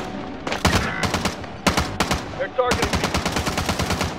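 Rapid automatic gunfire rattles in dense bursts during a video game firefight, loud and close, with brief gaps and a short spoken line partway through.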